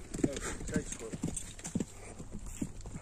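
Hooves of a blue-grey horse clip-clop at a slow walk on hard ground, about five distinct steps at a steady pace, close by, with people talking over them.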